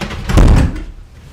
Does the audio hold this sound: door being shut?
yes